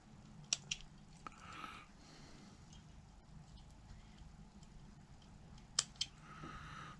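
Small scissors snipping off loose thread tails on a model HMS Bounty ship, a few quiet, sharp clicks spaced apart over a low, steady room hum.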